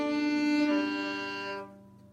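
A bowed string instrument plays a single down bow slurring across the strings from high to low, a sustained, steady tone that steps down in pitch and then fades out alone.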